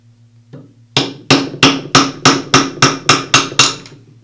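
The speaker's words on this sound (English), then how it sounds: "using a rubber mallet, I'll tap the armature shaft away from the bearing" Rubber mallet tapping a Makita grinder's armature shaft out of its bearing while the gear housing cover sits clamped in a vise: about ten sharp, evenly spaced close knocks over a faint steady hum.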